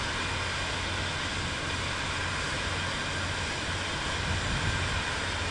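An airplane taxis slowly in Microsoft Flight Simulator 2024, its engine giving off a steady, continuous drone with a low hum throughout.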